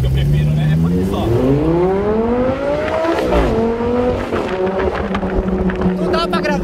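Lamborghini engine revving hard and accelerating on a city avenue during a car event, pitch climbing steadily then dropping and rising again, loud and close, with voices talking over it.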